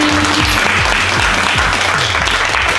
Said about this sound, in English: Give the girls a round of applause.